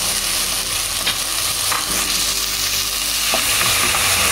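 Tomato puree is stirred into beef frying for kabiri rice masala, giving a steady close sizzle with soft scraping of the spoon through the pan, no talk.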